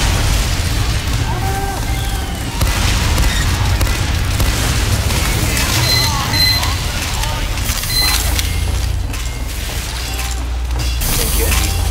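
A mini sentry gets destroyed in Team Fortress 2 with a blast heard amid a dense, loud wash of game noise, while a voice talks over the chaotic action.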